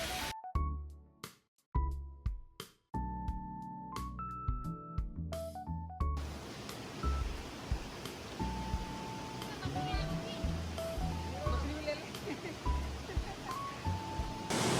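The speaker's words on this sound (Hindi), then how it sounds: "ये रहा वाटरफॉल" Falling water from a clear-running waterfall pours into a pool and drops far below, a steady broadband rush that builds after a few seconds of scattered sounds and holds to the end.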